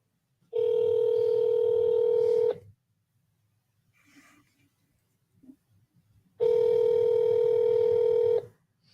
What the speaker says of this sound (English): Let's go ahead and call Paula real quick.